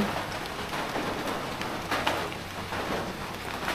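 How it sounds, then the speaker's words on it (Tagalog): Steady rain falls outdoors at night, a dense, even hiss of drops spattering on surfaces with a few slightly louder splashes, moderately close and continuous without any talking. "Oh my god. Raining."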